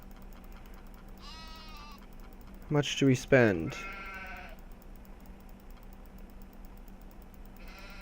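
Sheep in Farming Simulator 17 let out a high, wavering bleat, then someone talks briefly, and another short bleat follows near the end over a low steady game hum.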